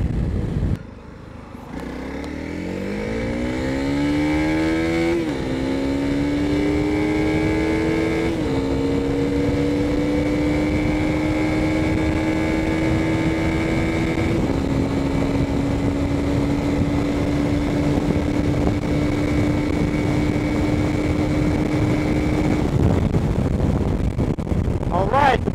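A Honda CRF300L motorcycle accelerates hard on a speed run, its engine note climbing through several gear changes before holding a steady high-revving drone for a long stretch, with constant wind rush on the microphone.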